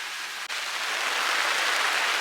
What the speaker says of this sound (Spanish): Es nuestra primera lluvia a bordo